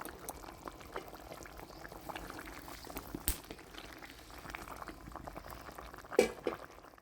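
A pot of kofta curry simmers on the stove with soft, irregular bubbling and popping, close but fairly quiet, with a few sharper pops and small clinks toward the end.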